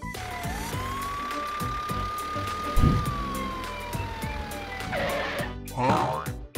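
A police siren wails steadily with a long rising and falling tone, heard over a busy mix of music and background noise.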